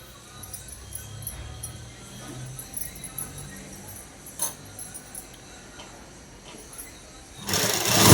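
A sewing machine stitches the seam of a night dress in short whirring runs with small pauses, ending in a sudden loud, close burst.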